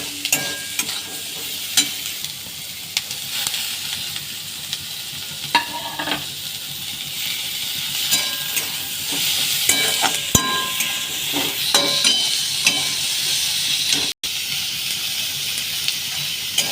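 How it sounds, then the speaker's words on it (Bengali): Ginger, garlic, onion, green chili and tomato fry in a pan for chicken and vegetable momo filling, giving a steady close sizzle and hiss with repeated scraping stir strokes throughout. "অল্প করে ভাজবো, বেশি ভাজবো না।"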